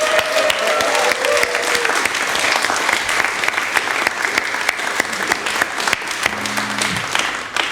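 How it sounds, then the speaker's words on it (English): A live audience at the Pianodrome venue breaks into loud, sustained applause and cheering that fills the room for several seconds, with a few brief tones near the end. "Can we get a huge round of applause for the Pianodrome and everyone who works there?"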